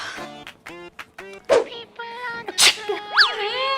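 A theatrical sneeze bursts out in a school classroom comedy scene, with vocal sounds before it and further sharp exclamations after.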